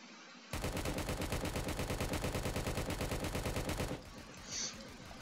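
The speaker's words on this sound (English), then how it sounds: "I'm getting shot." Rapid automatic gunfire in a Roblox video game, a loud continuous burst of evenly spaced shots lasting about three and a half seconds, then stopping abruptly into quieter background game noise.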